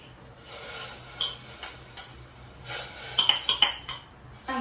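Pounded chili paste spooned into a boiling pot for pork curry, with metal spoon clinks and scraping against the pot in a quick series of taps, close and clear.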